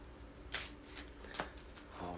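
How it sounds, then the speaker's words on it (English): A deck of playing cards is shuffled up close in a quiet room, with a few crisp riffling bursts and soft flutters and no talking. "as soon as I get done shuffling, we'll start up with the cards of the day"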